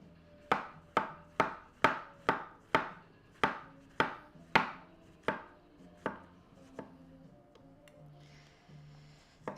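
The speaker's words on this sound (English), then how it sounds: "Still chopping mushrooms." Knife chopping mushrooms on a board during home cooking of a beef Wellington, a run of about a dozen sharp, close, evenly spaced chops that slow and soften toward the end, with no talk.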